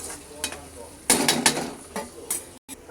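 Onions, green chilli, tomato and garlic fry in a pan, with a spatula stirring and scraping against the metal in a few loud bursts over a soft sizzle, and a faint voice nearby.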